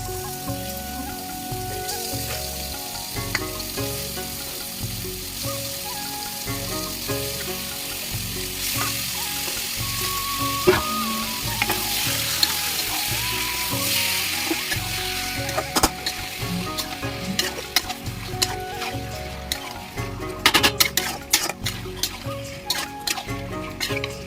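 Loitta fish frying in a spiced masala, a strong rain-like sizzle held throughout with intermittent stirring clatter, close and without talk.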